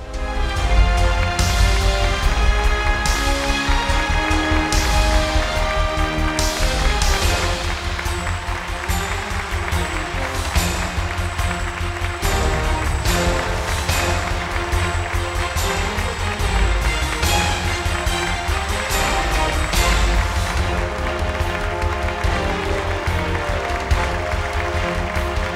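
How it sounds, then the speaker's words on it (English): Audience applause and cheering for the winner of the Dharana Miss Sri Lanka 2017 pageant, a dense, steady crowd roar under loud tonal music throughout. "Keep your applause going for the winner of Dharana Miss Sri Lanka 2017"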